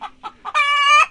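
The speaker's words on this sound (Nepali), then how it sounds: "खडकनाथ कुखुरा" A Kadaknath chicken, an all-black breed, gives three short close clucks followed by a loud, sustained squawk, with no talk.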